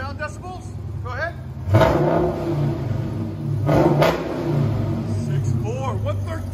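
Engine revving from a 2013 Dodge Challenger SRT8 with a 6.4L HEMI V8 and Dynomax dual exhaust with mufflers, two loud rising blips over a steady idle rumble, with people talking throughout.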